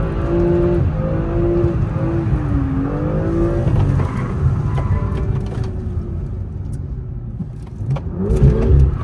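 A car engine revs on throttle alone with no clutch: rising and falling revs, close and loud, then the note eases and drops toward idle before a brief surge near the end.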